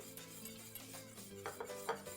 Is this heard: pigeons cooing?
no